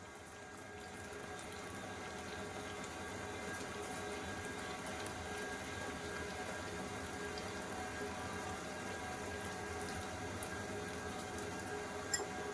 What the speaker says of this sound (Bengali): পালং শাক ফুটে গেছে, বয়েল হয়ে গেছে, টকবক করে ফুটছে।